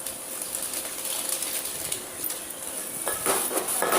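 A utensil scrapes and stirs veg noodle masala in a pan, a steady soft scraping over a faint sizzle, with a few sharper metallic clinks near the end.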